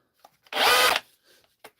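A faulty hammer drill spins without its hammer action, giving one smooth, steady half-second whir with no percussive rattle, close and fairly loud, bracketed by faint handling clicks.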